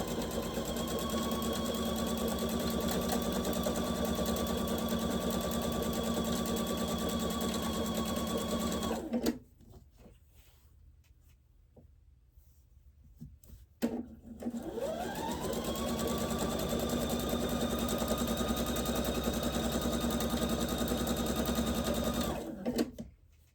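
A sewing machine stitches quilt strips at a steady, rapid hum. It runs for about nine seconds, pauses briefly, then starts up again and runs until near the end.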